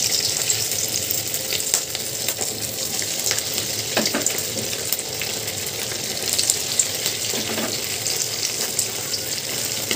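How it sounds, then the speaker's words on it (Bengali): Marinated chicken pieces for chilli chicken fry in hot oil with a steady, close sizzling hiss that holds evenly throughout, with occasional small clinks and no talking. "আমার ম্যারিনেট করা চিকেনটা আমি এবার এর মধ্যে একটা করে দিয়ে ভেজে নেব"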